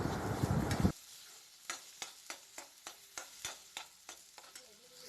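Boiled potatoes and snake gourd seeds fry with onion masala in a pan. A spoon scrapes and stirs in a steady rhythm of about a dozen close strokes over a faint sizzle, after a brief louder burst of sizzling at the start.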